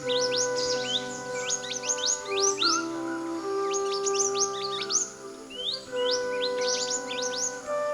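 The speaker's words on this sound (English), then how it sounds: "When a flock of about 50 small birds alight on the ground, even the toughest individual is slightly taken aback." A flock of about fifty small birds on the ground fills the air with dense, overlapping chirps and tweets, bursts of rapid high calls coming in clusters over a steady background, close and continuous.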